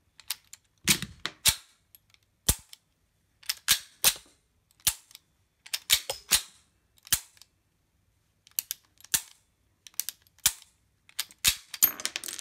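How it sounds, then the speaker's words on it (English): Norinco 213 Tokarev pistol dry-fired on snap caps: a long series of sharp, close metallic clicks and snaps, single and paired, in irregular bursts with short pauses, no talking. "I have my magazine loaded with some snap caps. We'll just fire that a little bit."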